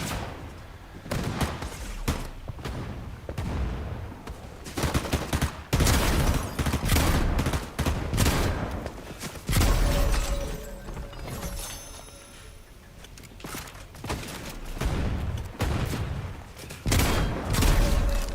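Repeated gunshots and bursts of fire in a Fortnite match, irregular loud cracks spread throughout amid game sounds, with a player speaking now and then.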